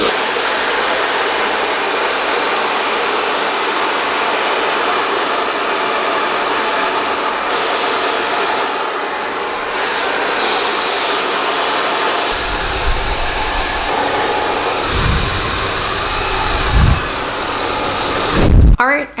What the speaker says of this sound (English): let's blow dry.